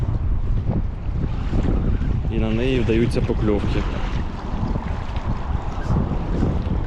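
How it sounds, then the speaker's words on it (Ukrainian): Strong wind buffets the microphone over the wash of big waves on cold water, loud and continuous, while someone speaks briefly in the middle. "Великий вітер, великі хвилі."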